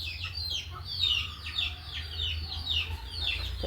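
Several chickens cluck in repeated short bursts, fairly close, over a low steady background hum.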